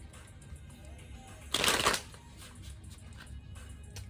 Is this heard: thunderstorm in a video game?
no